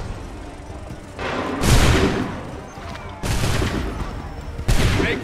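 Massed musket volleys in the Assassin's Creed III video game, three loud crackling bursts of gunfire each rolling out for about a second, close and heavy, with a low battle rumble between them.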